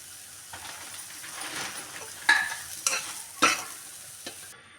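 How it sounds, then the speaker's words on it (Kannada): Mustard seeds dropped into hot oil in a pan for tempering a radish seed pod stir fry: a steady sizzle, stirred, broken by three or four sharp crackling pops near the middle, with no voices. "ಎಣ್ಣೆ ಕಾಯ್ದ ನಂತರ ನಾನು ಸ್ವಲ್ಪ ಸಾಸಿವೆ ಹಾಕೋತಾ ಇದ್ದೀನಿ"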